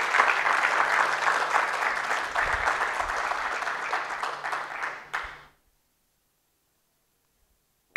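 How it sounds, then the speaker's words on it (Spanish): A church congregation applauds together in a dense, steady wash of clapping for about five seconds, then it stops abruptly into silence. "Dele palmas al Señor"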